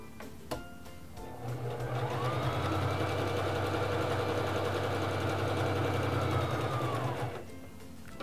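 Singer Fashion Mate 3333 sewing machine stitching at a longer stitch length, a steady, even mechanical whir with a rapid rhythmic clatter that runs for about six seconds, then stops.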